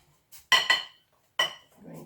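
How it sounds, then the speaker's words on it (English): A metal ladle clinks against a pan while making pancakes with Granny Smith apples: a few sharp, close metallic knocks in quick succession with short pauses between them, then a softer clatter at the end. "A ladle."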